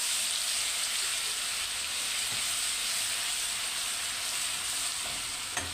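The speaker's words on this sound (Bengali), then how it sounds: "এটাকে আমি ভালো করে একটু ভেজে নেই।" Ginger garlic paste with cloves frying in a pan while making Old Dhaka style chicken polao: a steady, close, hissing sizzle that stays even throughout.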